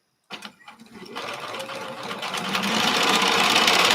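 A sewing machine stitches through thick fabric layers, its motor starting with a few slow thumps and then building into a steady, loud whirring hum.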